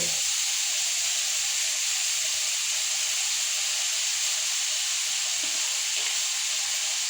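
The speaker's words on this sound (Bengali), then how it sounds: "এই যে পোয়েটা ঢেলে দিবে, এমন করে ছাড়িয়ে দিবে অল্প, নাহলে দলা দলা হয়ে থাকে" Batter poured and spread thin across a hot pan fizzes with a steady, even sizzle and faint steam hiss, close and continuous with no talk.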